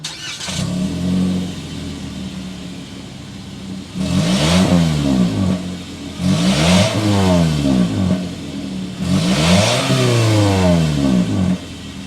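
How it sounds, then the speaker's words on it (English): A 2023 Toyota Corolla SE engine turns over and starts, then the exhaust revs up hard three times, each rev rising and falling back to a rumbling idle. "start it up so you can hear that exhaust though."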